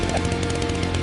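A chainsaw buzzes in an AI-generated anime scene set in 2029 New York City, a loud, continuous rasping engine drone filling the whole moment.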